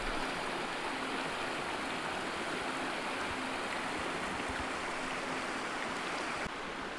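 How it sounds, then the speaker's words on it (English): A river rushing at a backpacking crossing in the Snoqualmie backcountry, a steady, dense broadband wash of flowing water that holds unbroken and close throughout. "Seems I've reached a river crossing."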